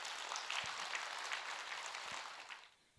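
A Buddhist Dharma-talk audience gives a few seconds of soft, distant applause, faint and steady before tapering off.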